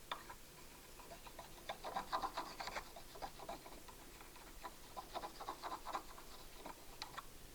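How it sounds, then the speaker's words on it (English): Steady rasping rubs of a wood turning tool's inside face being honed flat on a sharpening stone, a string of short close strokes alone without talk. "And then I hone the inside of the tool, being very careful to stay on the flat of the tool"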